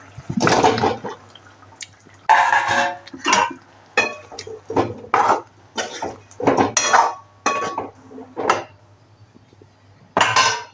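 Whole potatoes tumble into a pan of cooked spices for a fenugreek potato curry, making a series of loud, separate clattering bursts with hissing and scraping between them. No voices are heard.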